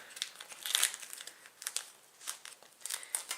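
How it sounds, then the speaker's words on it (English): A dried paint skin being peeled away with a palette knife, giving irregular crinkling and crackling bursts that are close and fairly soft, with short pauses between pulls. "I could even bring a palette knife in underneath and begin to peel this off"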